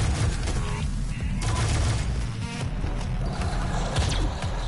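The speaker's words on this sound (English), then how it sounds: "I'm gonna give you my shotgun! Shotgun kabloom!" Shotgun blasts in the video game Doom, with loud booming shots and dense gunfire clatter packed together over continuous game noise.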